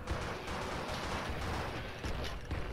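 Rapid gunfire in a video game, a dense stream of cracking shots and bursts at moderate loudness, continuous without pauses and with no talking over it.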